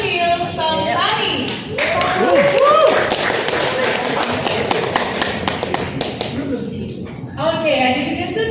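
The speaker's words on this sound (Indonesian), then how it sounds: "Tepuk tangan." An audience at a film press conference applauds the cast of Kitab Si Jin dan Lilin with dense, sustained clapping while a voice speaks over it.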